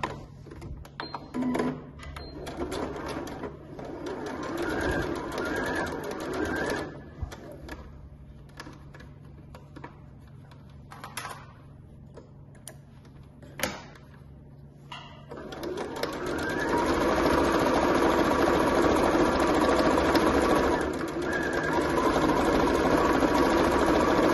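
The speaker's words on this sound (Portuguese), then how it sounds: "vou dar uma costurinha de pé de máquina aqui em toda a extensão pra prender a tricoline aqui na sarja" A sewing machine runs a straight stitch along the full length, joining tricoline cotton fabric to twill for a simple multipurpose pouch. Intermittent whirring bursts come first, then a steady, loud run for the final stretch, with no talk.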